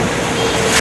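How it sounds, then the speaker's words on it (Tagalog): Floodwater carrying volcanic debris from Mayon Volcano pours over a bridge in Barangay Padang, a loud, steady roaring rush of water filling the whole moment and ending abruptly. "Umapaw ang tubig sa ibabaw ng tulay ng Barangay Padang matapos matangay mula sa Bulkang Mayon ang mga volcanic debris"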